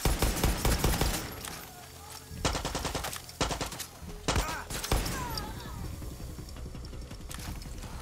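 Gunfire in Far Cry 6 comes as rapid, loud automatic bursts separated by short pauses, then fades into quieter scattered shots and background game sound.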